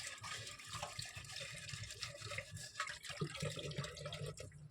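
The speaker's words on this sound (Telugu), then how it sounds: "ఇలా పాత్ర మొత్తాన్ని ఇలా వాటర్తో తడుపుకుంటూ సాఫ్ట్ స్క్రబ్బర్ తోటి" A clay pot being washed under running water with a soft scrubber, a continuous trickle and splash with faint rubbing close by throughout.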